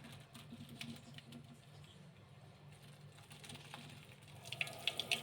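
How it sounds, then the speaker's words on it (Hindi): Boiled macaroni pasta being strained as its cooking water drains off in a continuous splashing rush, followed by a few light clinks near the end. "पास्ता हमारा उबल चुका है, अब इसको अच्छी तरह से छान लेंगे।"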